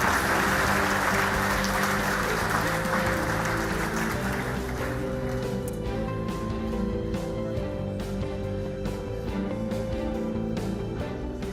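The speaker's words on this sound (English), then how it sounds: "A warm round of applause for Andrew Baillie." Applause rings out for a guest speaker at a business conference, a broad, continuous wash of clapping over a steady hall hum, thinning into scattered individual claps toward the end.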